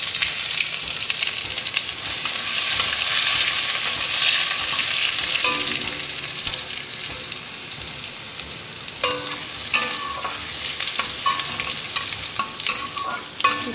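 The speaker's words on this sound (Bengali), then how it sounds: "শুকনো লঙ্কার 5 ফোড়ন যখন তেলে পড়ে, খুবই সুন্দর একটা গন্ধ বেরোয়।" Dried red chilies and five-spice seeds sizzle and crackle in hot oil with occasional stirring scrapes, a continuous loud frying hiss close up, with no talking.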